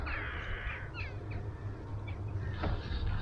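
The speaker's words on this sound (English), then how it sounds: "lots of crows, look, lots of crows, loads of crows" Crows cawing outdoors in Norfolk countryside, several harsh calls in quick succession, moderately distant, over steady wind and background noise.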